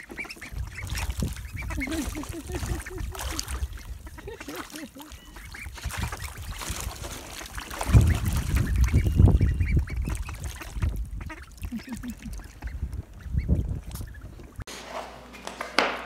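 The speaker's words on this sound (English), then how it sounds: "I just love seeing those little ducks" Ducks and ducklings on water give steady peeping and soft quacking calls, close and continuous, mixed with splashing and a few brief voices.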